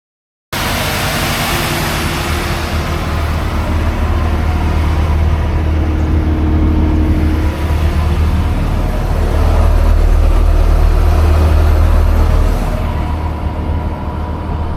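A BMW E36 on a race track gives a loud, continuous engine drone heard from inside the car, rising slightly partway through, with no talking.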